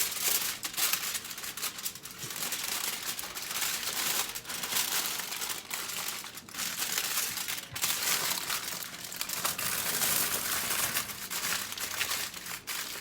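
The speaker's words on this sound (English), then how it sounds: "and back to wrapping our fish." Foil paper crinkles and crumples steadily as a stuffed fish for a Jamaican oven roast is wrapped, close and continuous with brief pauses between handling motions.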